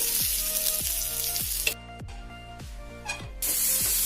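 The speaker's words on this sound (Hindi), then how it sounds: "तो ये सारे मैरिनेटेड पनीर हमारे फ्राई हो चुके हैं।" Marinated paneer frying in a pan gives a steady close sizzle and spitting hiss, with a few sharper pops along the way and no talking.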